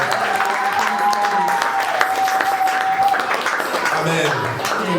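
A church congregation at a French-language worship service applauds loudly, a dense, steady wash of clapping that lasts throughout, with voices and a sustained tone over it.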